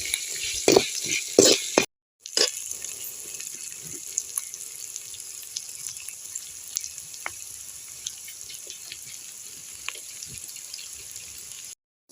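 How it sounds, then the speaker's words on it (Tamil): Dal, onion, green chili and curry leaves fry in a pan for a raw papaya stir-fry. A loud, close, continuous sizzle with scattered crackles breaks off briefly near the start, and no one speaks. "பருப்பு போட்டுக்கலாம் வெங்காயம் போட்டுக்கலாம் பச்சை மிளகா போட்டுக்கலாம் கருவேப்பிலை போட்டுக்கலாம்"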